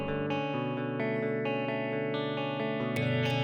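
Clean direct-input tone from a Jackson JS22 seven-string electric guitar, no amp or effects, playing a steady run of sustained picked notes and chords that change every half second or so, dry and close.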